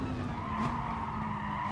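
Race car tyres skid and squeal in Gran Turismo Sport, a steady sustained screech over continuous engine noise throughout, fairly loud with no talk.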